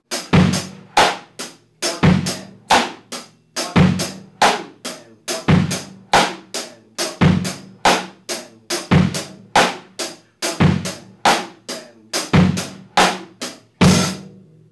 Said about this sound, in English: So you can move the kick from the 1 to the E.